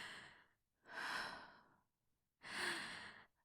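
Nervous breathing in an awkward dating scene: two slow, audible breaths, each a long airy sigh separated by silence, close and soft with no words.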